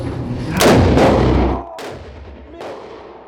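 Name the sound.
gunshot fired by a blind shooter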